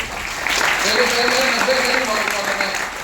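An audience claps steadily and loudly at a public speaking training session, a sustained round of applause lasting a few seconds, with a voice over it.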